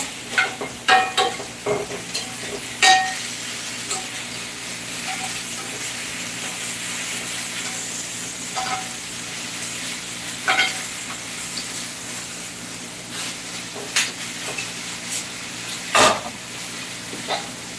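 Oil sizzles steadily in a hot cast iron skillet, a continuous close frying hiss broken by sharp clinks and scrapes from stirring and handling the pan.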